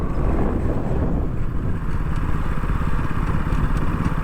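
A KTM 200 BS6 motorcycle accelerating through the gears, its engine droning loud and steady up close with heavy wind rush.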